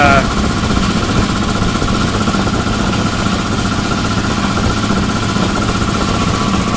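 A loud, steady mechanical chugging drone of a running shop air compressor motor, continuous and close, with a rattling vibration throughout.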